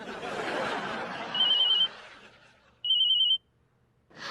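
A mobile phone rings with an incoming call: two short electronic ring bursts, moderately loud, after a stretch of background murmur, with a brief voice starting at the end.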